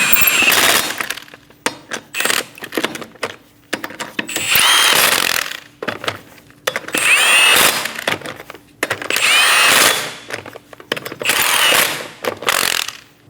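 Power tool snugging down the wheel lug nuts on a Scion xB, several loud bursts of ratcheting whir separated by short pauses, close up.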